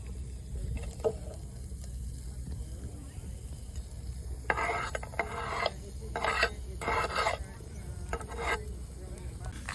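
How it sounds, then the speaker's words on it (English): Chopped onion and garlic cooking gently in a saucepan, with a low sizzle beneath several bursts of spoon stirring and scraping against the pan in the second half. "the next step is chop and sweat the onion and garlic in a saucepan"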